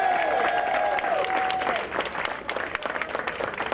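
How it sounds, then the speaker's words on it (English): A round of applause rises for a sculptor at a Hartford legacy weekend event, the crowd's clapping steady and dense throughout, with a whistle-like tone sliding through the first couple of seconds. "let's give her a round of applause as well"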